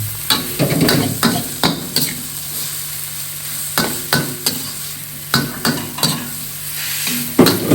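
Pad thai stir-fried in a pan over high heat, a steady loud sizzle broken by rhythmic scraping and clanking of a spatula against the metal, repeated tosses close up with no talking.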